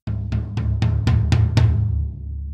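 Seven programmed pop-country tom hits with no transient shaping or saturation, descending in a quick even roll, each a clean punchy thud, the last ringing out alone.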